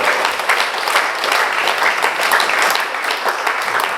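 Lively crowd clapping at a motivational speaker's anniversary celebration event, a steady, dense round of applause lasting several seconds without talk.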